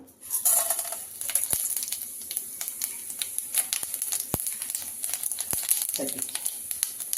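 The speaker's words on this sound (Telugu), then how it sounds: "కొద్దిగా ఆయిల్ వేద్దామండి. పప్పు దినుసులు వేసుకుందాము." Lentils and dal spices frying in oil in a kadai for a Telugu tindora tomato chutney, a bright sizzle with scattered sharp pops and spatula scrapes, close up and continuous.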